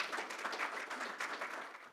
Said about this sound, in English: let me, with a huge round of applause, welcome our esteemed speakers